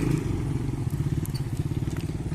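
Motorcycles on a mountain road near a viewpoint on the way to Fort Munro, Pakistan: a steady, rumbling engine putter pulses rapidly at close range and stays loud and even throughout, with no talking.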